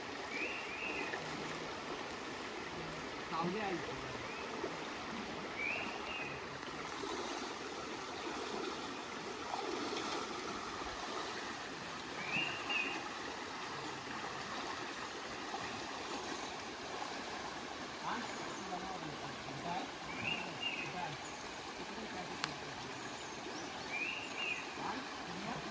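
Flowing stream water at a crab-catching spot, a steady, soft rushing and gurgling that continues evenly throughout, faint and unbroken.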